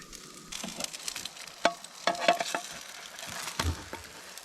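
Gyoza sizzle as they sear in a pan outdoors in Alaska, a crackling, spitting fry with light pops and stirring clicks, close and moderately loud, with no talking.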